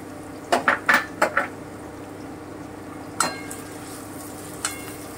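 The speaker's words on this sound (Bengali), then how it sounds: "আমি হালকা ব্রাউন করে ভেজে নিচ্ছি।" Chopped onions fry until brown for shahi mutton. A spatula clanks against the pan in a quick burst of several strikes, then a couple of isolated taps follow over a faint background hiss, with no talking.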